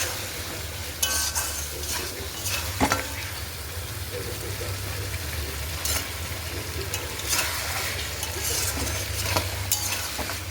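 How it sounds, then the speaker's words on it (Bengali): Mutton stir-fried with cumin powder and spices for a pumpkin curry, a continuous sizzle with spoon scrapes and occasional metallic clinks against the pot, close and fairly loud, with no voices. "এবার জিরে গুঁড়ো মশলার সঙ্গে মাংসটাকে ভালো করে আস্তে আস্তে ভালো করে কষিয়ে নেব।"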